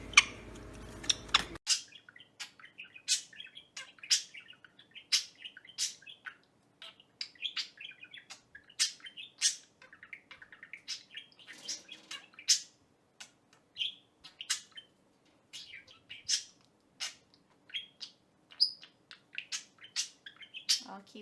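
Parrots and other birds chirp and sing in quick, sharp, high calls scattered steadily throughout, fairly faint, with a brief burst of noise at the very start.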